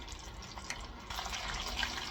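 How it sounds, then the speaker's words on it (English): Oil bubbling and hissing in a mini deep fryer as moisture cooks off, a steady soft fizzing crackle close by, slightly louder in the second half, with no talk. "Starting to bubble here. That's the water activating with it."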